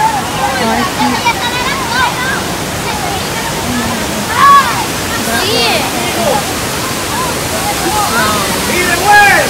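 A waterfall roars as a steady broadband rush throughout, and people's voices and brief calls rise over the falling water now and then.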